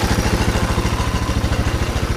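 A Kawasaki KLF300 Bayou quad bike, salvaged from a scrapyard, running close by with a loud, steady, thumping single-cylinder idle and a rapid even pulse throughout.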